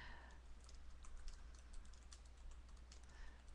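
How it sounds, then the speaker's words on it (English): Someone types on a computer keyboard, a quick, irregular run of light clicks that goes on steadily for a few seconds, soft and close against a faint electrical hum, with no talking. "So I'm going to type that in the thing here."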